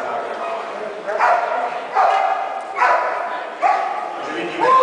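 Police dog barking in a series of loud, sharp barks about once a second, heard up close during a dog-handling demonstration at an auto show in Nitra.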